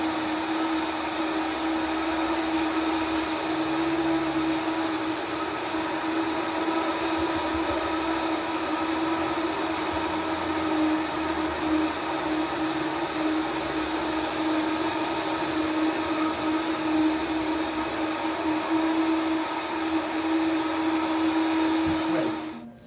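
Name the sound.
blender blending coconut milk soup ingredients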